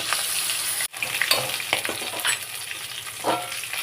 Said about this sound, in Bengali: খুব ছিটাচ্ছে মাছ ভাজতে গিয়ে বাবা